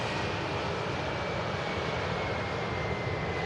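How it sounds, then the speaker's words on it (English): An EasyJet airliner touching down at Manchester Airport produces a constant loud jet engine roar with a thin high whine running through it, filling the whole moment without voices. "This is the aircraft we just missed touching down"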